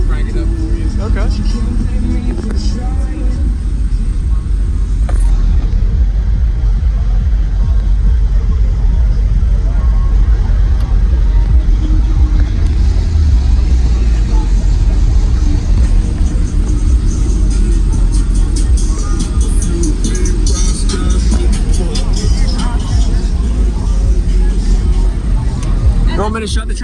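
Custom car audio with two 12-inch Gorilla subwoofers in the trunk, a loud deep bass rumble that holds steady throughout and sounds close and heavy.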